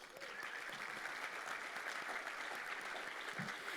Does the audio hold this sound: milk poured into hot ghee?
no